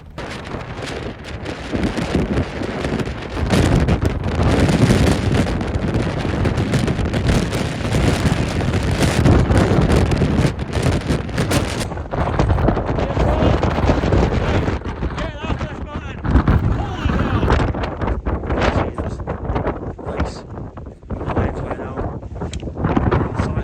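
Strong wind of more than 50 mph blasts through a blizzard near the summit of Cairn Gorm. It roars as a loud, continuous buffeting across the microphone, with gusty surges throughout.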